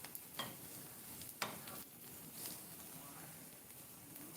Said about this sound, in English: we are frying the masa now